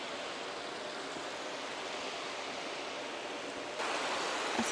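Hot spring water flows from a river-fed hidden spring and spills over a small hot waterfall, a steady broadband rush that grows slightly louder and brighter near the end, with no talking.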